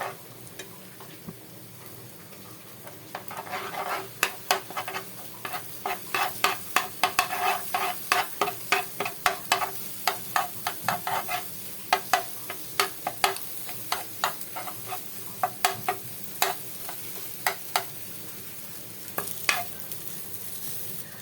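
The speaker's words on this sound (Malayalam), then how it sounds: "കലക്കി നല്ലോണം വറുത്തെടുക്കുക" A beaten egg sizzles softly in a pan while a spoon taps and stirs in a quick, repeated rhythm, close and steady, while making kothu porotta.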